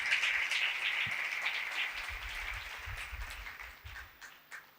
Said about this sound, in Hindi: खुदा के जलाल के लिए जोरदार तालियां बजाएं।